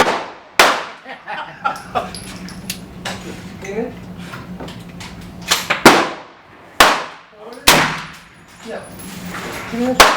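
Loud, sharp shots from a Thompson Center Hawken muzzleloading rifle fired through chronograph screens at a range, with several distinct cracks spaced seconds apart, each trailing off, and people talking between them.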